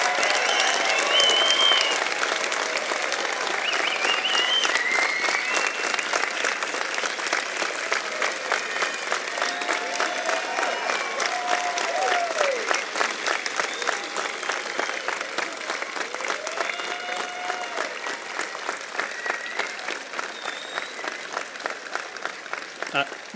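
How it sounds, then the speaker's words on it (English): Convocation audience applauds standing graduates, sustained crowd clapping with crisp individual claps near the microphone, scattered cheers and voices mixed in, steady for over twenty seconds and thinning slightly toward the end. "could we have one more round of applause and congratulations for our new"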